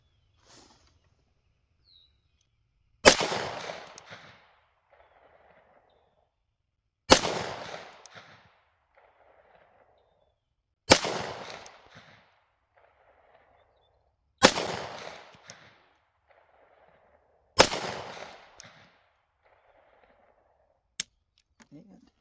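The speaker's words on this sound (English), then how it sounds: "Got 5 rounds loaded up in a Springfield Armory XD Mod 2 4-inch service model 9mm." A Springfield Armory XD Mod 2 4-inch service model 9mm pistol firing 124 grain NATO rounds, six sharp, loud shots spaced a few seconds apart, each followed by a short echoing ring, outdoors.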